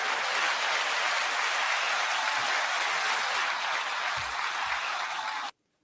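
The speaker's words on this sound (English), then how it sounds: "9-second applause to you all" Loud, sustained audience applause, a thick continuous roar of clapping hands that holds steady for several seconds and then cuts off abruptly.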